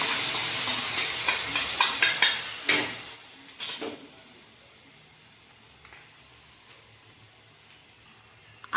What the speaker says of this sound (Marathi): वाटलेला मसाला आपण टाकून घेतलाय कढईमध्ये